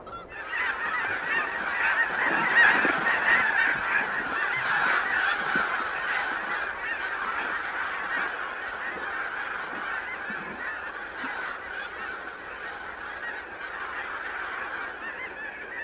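A flock of ducks and geese at a wildlife refuge honks continuously, a dense chorus of overlapping calls that stays loud and steady throughout.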